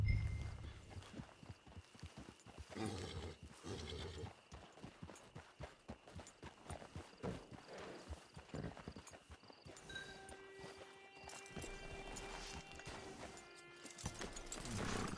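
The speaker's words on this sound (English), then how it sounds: "Get your horse." Horse hooves clip-clop in the Red Dead Redemption 2 Online game, a rhythmic run of close hoofbeats over ambient outdoor sound, with a whinny and sustained tonal game sounds entering in the second half, fairly quiet overall.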